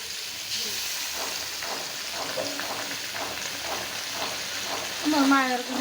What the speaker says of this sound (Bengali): তো বাকি মাছগুলো ভাজে নিব।